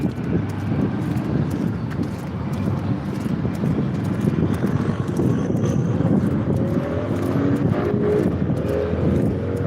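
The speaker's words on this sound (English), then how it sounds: "It is windy." Wind blowing outdoors, a steady loud rumble and buffeting across the microphone that continues without a break and covers everything else.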